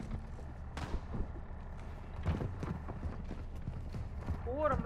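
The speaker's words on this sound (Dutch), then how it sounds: "Ik hoor hem lopen, Rob" Enemy player footsteps in the video game Warzone 2.0: a quick, uneven run of soft thuds over a low game rumble, with voices talking over them.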